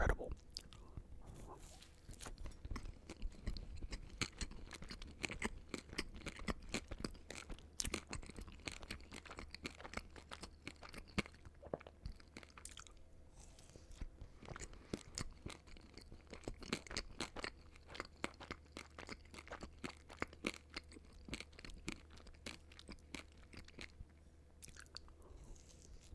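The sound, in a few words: crunchy Crumbl dot cake sugar cookie being chewed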